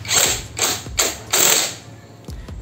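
A Bull BL127 impact wrench tightens a motorcycle wheel bolt in four quick bursts of loud rattling hammering, followed by a couple of faint clicks.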